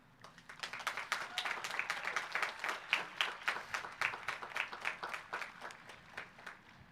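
A crowd at the Orange High School 2022 graduation ceremony breaks into dense, rapid applause that builds quickly, holds for several seconds and then thins out toward the end, with no speech over it.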